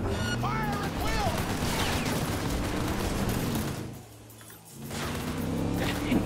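Dense gunfire in the video game Cyberpunk 2077 during a shootout in a city center side job, rapid overlapping shots and crashes under a voice, briefly dropping away before resuming.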